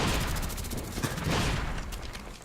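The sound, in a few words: L96A1 sniper rifle gunfire in video game Black Ops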